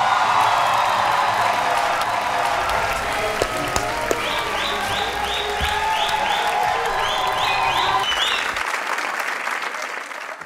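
A studio audience at a comedy talk show applauds the cast of a Pakistani film, a loud, dense, continuous wash of clapping that fades near the end.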